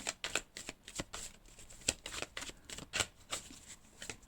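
Tarot cards shuffled by hand in steady, repeated riffles, each burst a crisp papery flutter close to the listener, fairly loud and continuing throughout with no voice.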